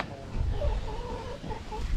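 Chickens in a garden run cluck softly and repeatedly at close range over low background rumble.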